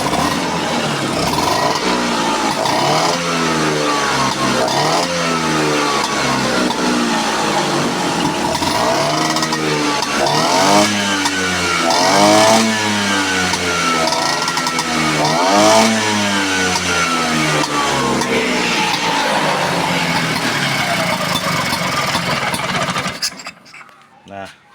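Motorcycle engine with a carburetor after a float height adjustment, having earlier been flooded, starting up and revving repeatedly in rising and falling surges at close range, loud, then cutting off at the end.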